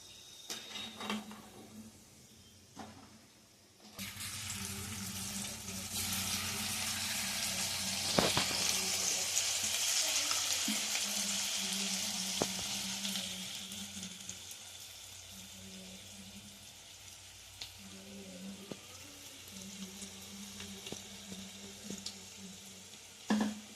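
Boti kabab pieces frying in hot oil give a continuous soft sizzle that swells in the middle and then eases, with occasional clinks and scrapes, close and fairly quiet, with no talking.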